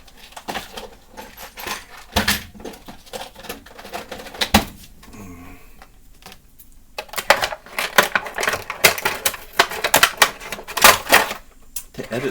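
Scissors snip and crunch through plastic toy packaging around a He-Man Masters of the Universe CGI Collection Trap Jaw Cycle, heard as close, irregular clicks and crackles that cluster in busy bursts with brief quieter gaps.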